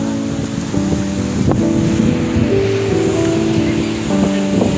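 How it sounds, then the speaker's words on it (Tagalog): Large ocean waves break steadily on the shore at Bagasbas Beach in Daet, a loud continuous wash of surf with wind buffeting close by. "Ang lalaki po ng alon dito"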